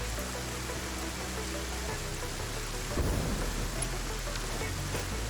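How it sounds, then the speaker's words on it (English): Steady rain falls in a factory-building video game, a dense continuous wash with a low rumble of thunder rolling in around the middle, heard alone with no talk. "I love the rain in this game."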